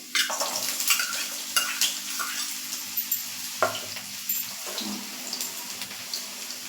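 Chopped onion goes into a pan of frying garlic for pasta, giving a bright sizzle with scraping stirs and clatters from the spoon, close and moderately loud.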